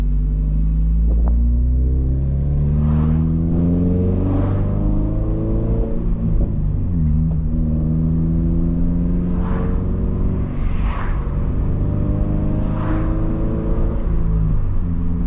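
A Subaru BRZ engine drones loudly from inside the cabin while driving, its pitch climbing and dropping with each gear change, including a downshift from third to second, and the rumble continues throughout.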